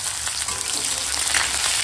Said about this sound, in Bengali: তো দেখো পেঁয়াজটা এরকম হালকা ভাজা হয়ে গেছে